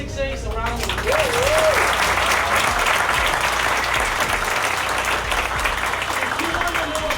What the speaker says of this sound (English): let's give all of those 6As a round of applause